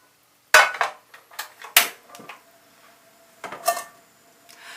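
A metal frying pan is handled on a kitchen stove while cooking steak, giving sharp clanks and knocks in irregular bursts with quieter scrapes and rattles between them, close and distinct with no talk.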